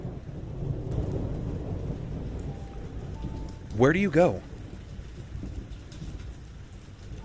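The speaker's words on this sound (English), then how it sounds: "the sound of thunder falls off, and the sheets of rain and storm" A heavy thunderstorm with pouring rain makes a steady, dense wash and low rumble throughout, and a voice briefly speaks over it midway.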